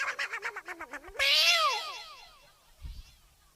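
A voice imitates two cats fighting on a rooftop, first a run of rhythmic yowls, then a long rising and falling screech, ending with a short low grunt, close and clear.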